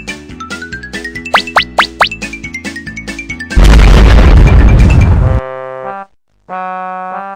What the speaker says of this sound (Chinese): 这次你们可逃不了我的深水炸弹了。